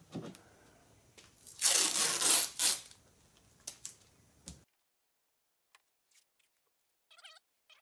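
Adhesive tape is stripped and torn off a roll in a few loud rasping pulls, then a quiet pause with faint scattered ticks and crinkles as it is pressed onto the curves of an LS intake manifold.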